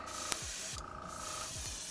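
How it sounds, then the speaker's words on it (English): A Banjer Vengeance airbrush sprays paint in a continuous soft, close hiss, with a few faint clicks and taps around it and no talking. "This is a wonderful airbrush, great for beginners and professionals alike. Has a wonderful spray on it."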